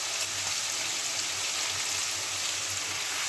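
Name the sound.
vegetables frying in a pan as spinach is added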